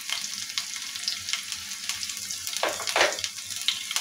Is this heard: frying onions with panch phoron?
yes